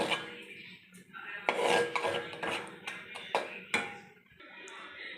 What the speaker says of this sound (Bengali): ক্যারামেলটা আমি একটা পাত্রের মধ্যে স্টিলের ঢেলে নিলাম